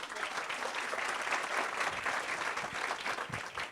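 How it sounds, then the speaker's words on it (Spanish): Audience at a Spanish-language talk on gender ideology applauds, a steady, dense wash of clapping from a sizable crowd holding even for several seconds, with no speech over it. "un aplauso para ustedes mismos"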